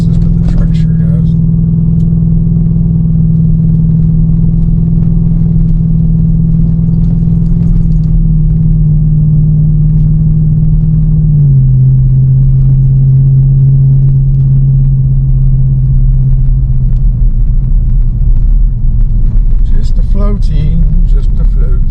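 A 2023 Ford Raptor R pickup towing a trailer off-road across rough, bouncy ground, its engine giving a loud, steady low rumble that drops slightly in pitch midway, with rattling and clatter over the top.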